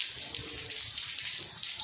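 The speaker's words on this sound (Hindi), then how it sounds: "बहुत पानी गिर रहा है, बहुत तेज बादल देखिए आ रहा है।" Heavy rain falling on a very cold day, heard as a soft, continuous watery hiss with faint splashing, fairly quiet and steady throughout.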